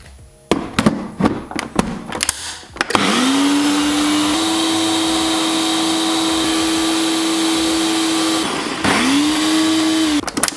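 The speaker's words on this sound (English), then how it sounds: "we're going to blend this up until it makes a nice smooth pesto" A blender whirs steadily through vegan basil pesto sauce for several seconds after a run of clattering taps and thumps, cuts out briefly, then starts again, loud and close.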